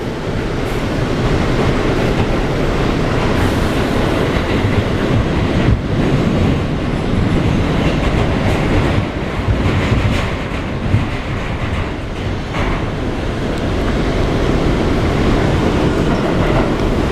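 An R179 subway train on the A line rolls along with a continuous loud rumble, rhythmic clickety-clack of wheels over rail joints and occasional faint squeals, heard from inside the car.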